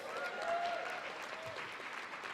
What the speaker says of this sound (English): Give a hand clap for that.